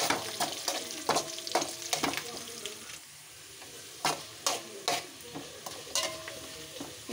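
Garlic, urad dal, cumin and dried red chillies sizzle in hot oil for a South Indian tempering, with repeated sharp stirring scrapes and crackles against the pan, close and steady, no talking.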